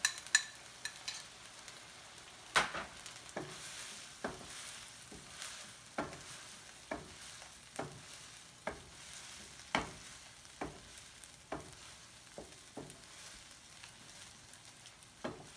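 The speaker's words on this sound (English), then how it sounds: "Let me give our sauce a stir." A sauce for ants climbing a tree stirred in a pan, quiet simmering sizzle under a series of distinct spoon or spatula scrapes and taps spaced about a second apart, close but fairly soft, no speech.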